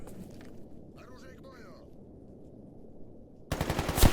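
Firearms fire in the shooter game Stalker Gamma, with a dense burst of rapid gunshots near the end after a stretch of quiet, muffled ambience and a short voice.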